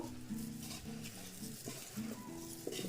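Fine salt is stirred by hand into a chunky mango-ginger pickle, giving a close, continuous scraping and squelching with faint clinks.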